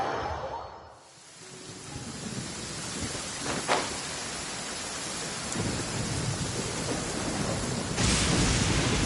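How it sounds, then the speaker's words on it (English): Video game thunderstorm with heavy rain, a continuous downpour hissing throughout, a sharp crack of thunder near the middle and a louder rumbling surge toward the end, no voices. "Thunder and lightning can be quite frightening"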